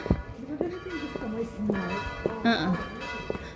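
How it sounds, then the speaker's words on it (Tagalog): A church bell rings a few times over ongoing conversation, its clear metallic tones standing out above the voices in a lively setting. "Nagkalimbang na ang kampana"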